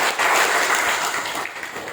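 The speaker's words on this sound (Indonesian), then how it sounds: "Mari kita berikan sorakan bagi Tuhan" A church congregation bursts into loud, dense applause and cheering during a Christmas service, sustained clapping filling the whole moment.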